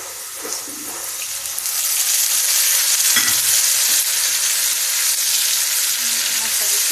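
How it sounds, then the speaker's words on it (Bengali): Onion and spices fry in a pan for a rohu fish curry with winter vegetables, making a loud, constant close-up sizzle. The hiss grows stronger after the first couple of seconds, with faint stirring scrapes and no talking. "এখন এর মধ্যে আমি মশলা দিয়ে দিচ্ছি"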